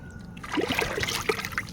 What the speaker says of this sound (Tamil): இப்போ இதை நம்ம மோரில் மிக்ஸ் பண்ணிக்கலாம்.